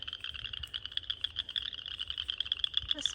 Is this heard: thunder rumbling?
no